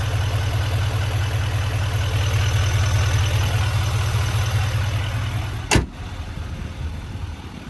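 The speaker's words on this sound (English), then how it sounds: "take a look at this Duramax diesel engine." A 2024 GMC Sierra 3500HD Denali Duramax diesel engine idles with a steady low rumble close by, then a sharp thump as it cuts off, leaving a quieter hiss.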